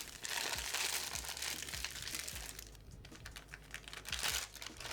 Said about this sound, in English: There is a large single Ziploc bag giving us all that YouTube ASMR goodness.